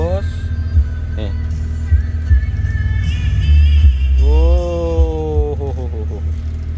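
A fully modified Honda Civic Genio idles with a deep, throbbing low rumble that stays constant, while people talk loudly over it close by.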